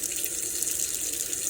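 Tap water runs steadily into a sink to rinse snow-dyed fabric, a continuous broadband hiss and splash at close range, even and unbroken with no voices.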